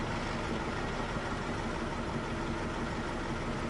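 A DV20 dump truck's engine idles in a constant, loud, broadband rumble that holds steady with no change in pitch and no one speaking.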